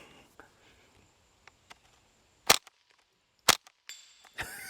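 A Ruger 10/22 rimfire rifle in a bullpup chassis fires about three sharp, cracking shots at steel plates outdoors, spaced roughly a second apart, with faint clicks and handling noises between them.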